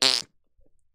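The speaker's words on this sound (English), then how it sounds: "Fart noises." A loud, raspy fart noise bursts out for about a fifth of a second, buzzing and harmonic-rich, then cuts off into near silence with only a few faint low thumps after.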